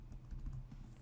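A quiet burst of computer keyboard typing as a short command is entered, a few soft close clicks in quick succession.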